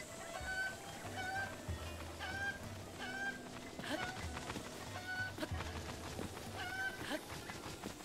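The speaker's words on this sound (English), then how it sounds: "These chickens do not like being held. There's another chicken." Chickens in Breath of the Wild give repeated short clucks and squawks, several spaced calls over a steady outdoor background, fairly close and moderately loud.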